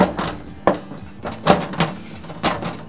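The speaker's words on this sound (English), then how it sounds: "put your door back on, because you always want to run the unit with the door on." The door of a LabStrong Fi-Streem III water distillation still is fitted back on, giving a series of close clicks, knocks and metallic clunks spaced irregularly over a few seconds.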